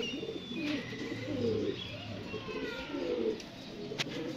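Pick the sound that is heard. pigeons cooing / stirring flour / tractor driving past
pigeons cooing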